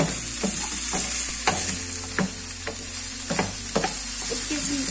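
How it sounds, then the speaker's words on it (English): A vegetable sauté frying in a pan beside basa fish, stirred with steady sizzle and periodic spoon scrapes and knocks against the pan, close and continuous with no voices. "I'm gonna stir it for some more time"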